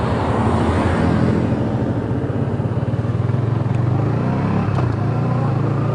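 A motorcycle engine runs steadily with a dense low rumble through a clutchless gear shift from second gear, close and continuous, with a slight change in pitch partway and no talk.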